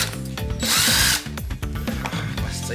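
Toy jackhammer from a rocks and fossils dig kit buzzing loudly into the dig block, a harsh motorized rattle in short bursts with brief pauses, close to the listener.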